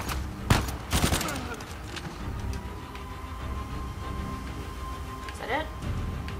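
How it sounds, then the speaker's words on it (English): Gunfire in the Uncharted 4 video game: a couple of sharp, loud shots near the start, then scattered bursts and rumbling battle noise continuing beneath, with another burst near the end. "Who is shooting?"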